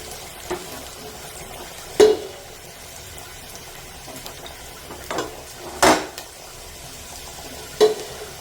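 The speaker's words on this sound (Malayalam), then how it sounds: "ഇളക്കി നന്നായിട്ട് സവാള വഴറ്റി കൊടുക്കുക" Onions sautéing in a pan with a few sharp scraping stirs at irregular intervals, moderately close, no voices.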